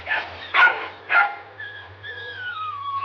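A Labrador retriever gives two short, sharp barks close by, followed by a thin, drawn-out whine.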